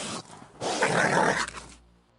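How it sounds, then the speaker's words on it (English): A dog growls in a rough, sustained burst lasting over a second, preceded by a shorter growl, loud and close with no talk over it. "It's a dog growling."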